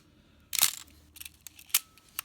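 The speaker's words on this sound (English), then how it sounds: "Put your film right here, bring it over, put it into one of these slots, and advance." A Nikon FG SLR camera being loaded with film: a sharp click and rasping sweep, then small mechanical ticks and a final advance-lever snap, quiet and close.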